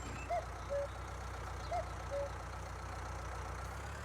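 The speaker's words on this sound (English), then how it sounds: "the tractor doesn't want to go super fast up this hill anyways with this load" A tractor on a small farm in Skrzyszów hauls a heavy load uphill, its engine a steady low drone at close range, with a few faint high beeps rising above it.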